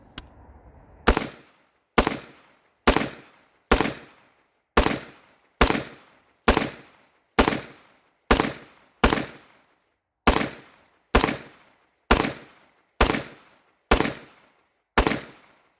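Wolf T91 rifle firing a magazine of rounds, roughly eighteen sharp, loud shots at a slow, steady pace about one per second, each followed by a brief echo outdoors.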